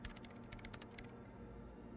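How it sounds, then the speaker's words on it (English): Quick clicking keystrokes patter on a machine's keyboard in the video game Disco Elysium, a short burst of soft close taps over a low background hum. "her hands typing hundreds of commands into the machine"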